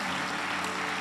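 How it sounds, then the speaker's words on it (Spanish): A church congregation applauds, a dense steady patter of many hands clapping throughout a very short stretch, with no voices standing out. "Denle un aplauso al Señor."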